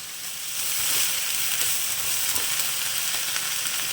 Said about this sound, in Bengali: একটু কুমড়ো শাকগুলো একটু ভাজা ভাজা করে নেব।